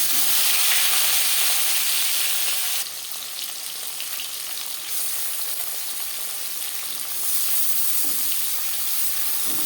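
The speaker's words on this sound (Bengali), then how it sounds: "চার চামচ রিফাইন্ড অয়েল গরম করে নিয়েছি এবার দিয়ে দেব কই মাছ" Koi fish fry in four spoons of hot refined oil, giving a loud, steady sizzle and crackle that runs throughout with small shifts in intensity.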